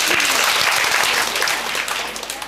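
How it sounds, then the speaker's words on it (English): Classroom applause from university students after a partner exercise, a brief, dense round of clapping from many hands, loud and continuous throughout. "Give my partner a big round of applause"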